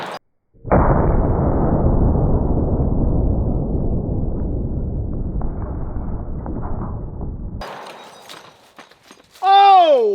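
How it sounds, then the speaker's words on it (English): An H&R 10 gauge shotgun fires a blank with one sudden, very loud blast whose roar decays over several seconds, followed by a person's voice close by. "So we're gonna get our H&R 10 gauge loaded up."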